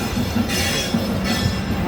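A goods train rolls past close by on the Howrah to Guwahati line, giving a steady, loud rumble of wagons and wheels with no pause and no voices.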